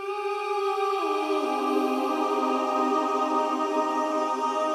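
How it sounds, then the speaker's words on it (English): A washed-out, heavily reverberated ambient vocal sample swells and drifts at the start of each bar, its sustained tones stepping upward early on, then hanging as a dense ambient cloud. "really ambient, you know, full of reverb sounding vocals that I added just to like the beginning of each bar"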